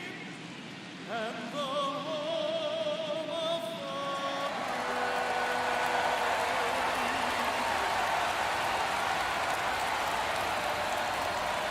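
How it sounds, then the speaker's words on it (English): A stadium crowd in the MLB The Show 22 baseball video game cheers as festivities wrap up, a broad sustained roar that swells after a brief electronic musical sting and holds steady at high volume. "The crowd is electric"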